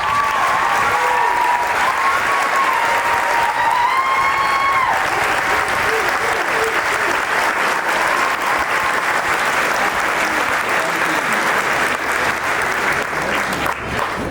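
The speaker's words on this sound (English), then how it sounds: "Would our valedictorians please stand and be recognized with a" A Mountlake Terrace High School graduation crowd applauds valedictorians with loud, sustained clapping that lasts the whole stretch. A few voices and cheers rise within it.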